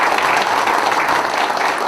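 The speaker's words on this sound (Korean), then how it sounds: "우리 이해찬 대표님께 정말 커다란 박수 한번 좀 따뜻하게 맞이해주셨습니다." Warm, sustained applause from a large audience welcoming the Democratic Party leader at a provincial party meeting in South Chungcheong, a dense, steady wash of clapping throughout.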